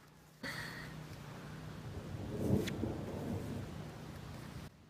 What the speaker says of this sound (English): Hey, what's that sound? Thunder.